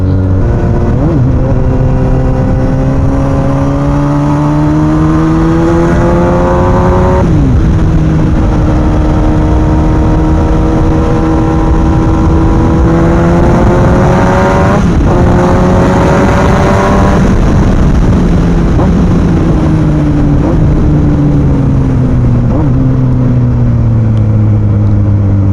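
A 2002 Yamaha YZF-R1 liquid-cooled, fuel-injected inline-four with 20 valves revs loudly and close, its pitch climbing through several gear changes, dipping at each shift before rising again.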